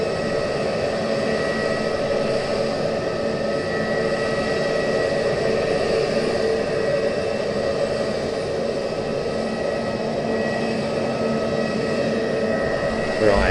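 easyJet jet airliner at Southend Airport, holding at Alpha 3 before departure, a loud, steady jet engine roar with a constant whine that stays even throughout.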